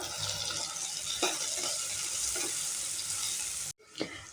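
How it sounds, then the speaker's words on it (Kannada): Seasoning splutters in hot oil in a pan while cooking a beans palya, giving a continuous close crackling sizzle with stirring scrapes and a brief break near the end. "ಎಲ್ಲ ಚಟಪಟ ಅಂತ ಇದೆ."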